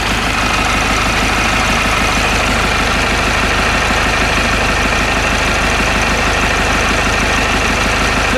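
A diesel tractor engine idles at about 750 rpm, recorded up close. The loud, steady chugging rumble has an even knocking pulse and holds without change, with no voices.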